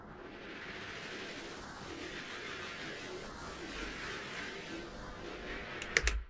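A tremolo-pulsed wash of white noise rises steadily under airy flight-like ambient carpets, a dense continuous hiss with faint clicks near the end.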